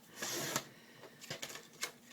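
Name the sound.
paper cutter trimming paper to an 8.5 inch square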